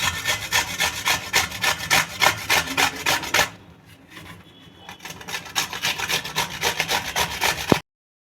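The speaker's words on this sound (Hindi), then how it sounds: "अब इसको घिस लेते हैं घिसनी पर।" Seeded cucumber grated on a hand grater used for carrots, heard as a steady series of close, loud rasping strokes that pause briefly midway, then resume before stopping.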